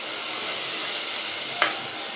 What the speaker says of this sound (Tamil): கத்திரிக்காய் பாருங்கள் நல்லா வதங்கிருச்சு